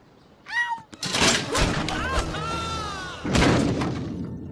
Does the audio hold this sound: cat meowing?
yes